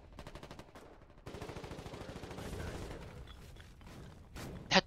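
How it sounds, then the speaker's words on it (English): Artillery and gunfire in the video game Foxhole, with a rapid string of distant shots, then a denser burst of rattling fire and a louder blast near the end. "artillery is striking."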